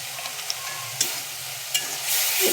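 Spice paste cooking in oil in a pan for a lentil tarka, just after ground coriander and cumin go in: a steady soft sizzle with a few scraping stirs and clicks, and the frying noise rising louder near the end.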